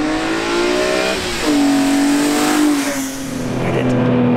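A BMW E46 M3 CSL engine revs loudly and close, its pitch rising and dipping as the throttle blips, with a throaty, sustained growl.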